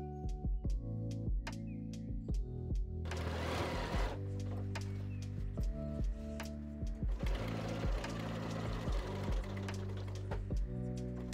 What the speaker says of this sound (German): hier nähen wir jetzt erstmal wieder den Boden an